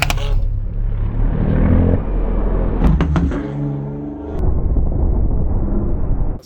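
A car accelerates hard during a motorsport stunt shoot, a loud continuous engine roar with rising tones midway and a brief sharp burst near the end.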